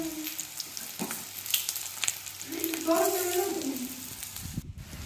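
Fang leaves fry and sizzle in a pan in Khandeshi home cooking, a steady close hiss as they are turned over, with someone speaking over the frying.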